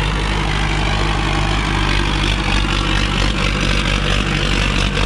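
A Sonalika DI-750 III tractor engine drones loudly and steadily while pulling an 8x8 disc harrow across a field, a close, continuous low diesel rumble with no talk.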